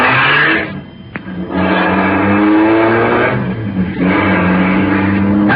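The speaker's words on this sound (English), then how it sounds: "she's sending the big car roaring down the driveway" A big car's engine roars and revs close by, rising and falling in pitch through several accelerations with a brief dip between surges, loud and alone.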